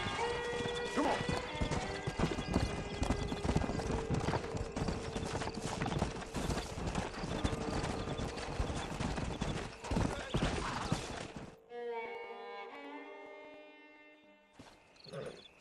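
Steady clip-clop of horse hooves over a busy soundscape in the video game Red Dead Redemption, with a horse whinnying briefly near the end as the scene quiets.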